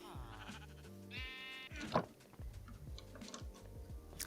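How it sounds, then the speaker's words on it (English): A sheep in Minecraft bleats after spawning from a spawner, heard as a few clear, fairly loud bleats over game background noise and clicking sounds. "Wait, is this going to spawn one sheep?"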